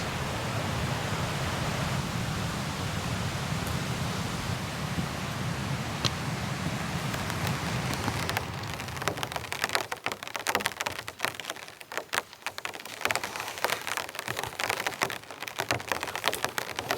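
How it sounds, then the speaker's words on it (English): Heavy rain falling at a remote New Zealand lake campsite: a steady, dense hiss of downpour, then closer, crackling patters of drops striking a nearby surface, no voices. "the rain started to come in pretty heavy"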